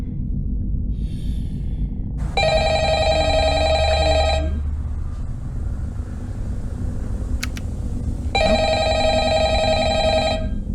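An electronic telephone rings in two long, steady bursts separated by a pause, loud and close over a constant low rumble, in a Five Nights at Freddy's themed setting.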